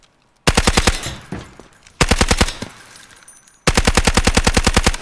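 SMG-45 submachine gun fired in Delta Force, three loud close bursts of rapid, evenly spaced shots with brief lingering echo between them.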